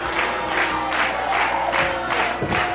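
A wrestling arena crowd claps in unison, the steady rhythmic beats about every third of a second, loud and close, with a general crowd roar beneath them.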